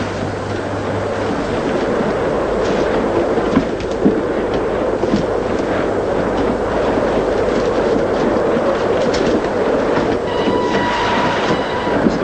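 A moving train with rail carriages rattling, a steady loud rumble and clatter of wheels on track continuing throughout, with faint squeals near the end and no talk.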